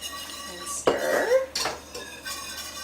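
Metal spoon scraping and clinking against a pot while grated Parmesan cheese is stirred into a cheese sauce, a few distinct scrapes and knocks close up in a quiet kitchen.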